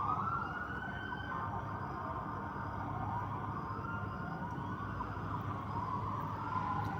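A siren sweeps slowly up and down at moderate distance under constant traffic and street noise, with no voices over it.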